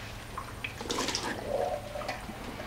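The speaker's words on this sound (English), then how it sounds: "I grab my small colander and I get rid of the juices" Canned bean juices pour and splash through a small colander in a kitchen, a brief wet gush of draining liquid over steady low background hum.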